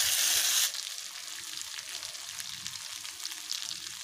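Boiled mung beans tipped into a hot tempering pan, giving a loud burst of sizzle for the first half second, then a steady, softer crackling fry that continues close by with no voices.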